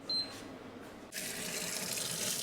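Kitchen sink tap in a house in Oliva, Spain, turned on after a brief quiet moment, then a steady loud gush of running water filling the basin, continuing alone to the end.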